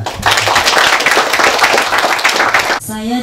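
Guests at a Christian wedding ceremony break into loud, close applause for a couple of seconds, many hands clapping together before it cuts off and a voice begins speaking.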